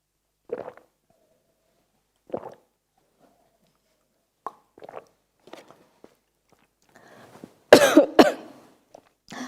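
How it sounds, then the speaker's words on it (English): Several separate coughs spaced apart, then a louder burst of harsh coughing near the end, close and otherwise quiet between. "Cough, cough."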